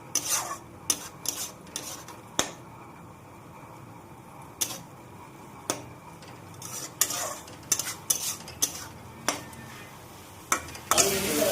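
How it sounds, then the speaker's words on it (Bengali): Fish fries quietly in a pan while a utensil scrapes and clinks against it in scattered sharp strokes, close but soft, over a low sizzle. "আর একটু ভেজে নেব, নিয়ে একটু জল দিয়ে দেবো।"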